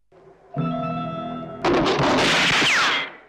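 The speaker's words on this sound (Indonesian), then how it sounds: "langsung disambut oleh sebuah tembakan peringatan" A warning gunshot in a film at an abandoned old prison, a sharp loud broadband blast cutting in after a tonal musical passage and ringing on for over a second before stopping.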